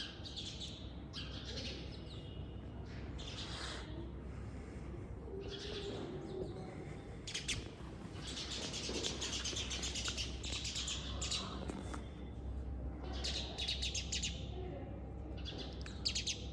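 Small birds chirp and tweet off and on at a distance over a steady soft outdoor hiss of cool breeze in a haveli courtyard in Bikaner, India, quiet and continuous.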